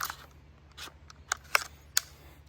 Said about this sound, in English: so it doesn't get in the way of your charging handle. You can still charge the gun.